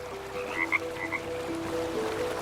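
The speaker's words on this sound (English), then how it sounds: "the mountain yellow-legged frog, scientifically known as Rana muscosa," A mountain yellow-legged frog (Rana muscosa) croaks in a few short, close, clear calls over a steady low outdoor hum in mountain waters of Sequoia and Kings Canyon.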